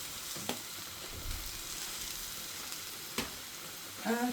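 Chicken, red and green peppers and pak choy sizzle in a hot pan for a homemade stir-fry, a steady crackling hiss broken by a few clanks and scrapes of stirring, with no talk.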